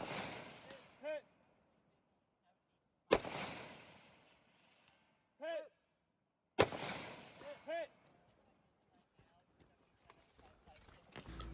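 Rifle shots ring out at targets during a woodland shooting competition stage in trooper division: two sharp, loud cracks a few seconds apart, with brief voices and quieter sounds in between.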